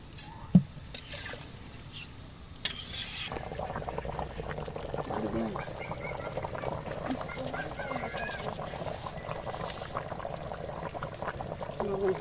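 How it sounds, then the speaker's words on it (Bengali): Water poured into a pot of chicken and potato curry, a steady gurgling pour that starts after a couple of clunks and continues for about ten seconds, with bubbling and a voice talking intermittently. "এখন জল দিয়ে দিচ্ছি।"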